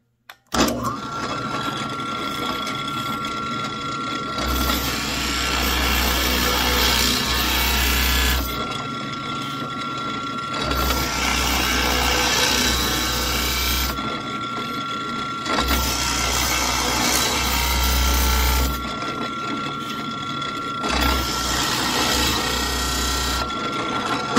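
A Forstner bit drills into wood for a bottle cap plaque, the power drill's motor whirring in several sustained bursts of about four seconds each, separated by quieter pauses, loud and close.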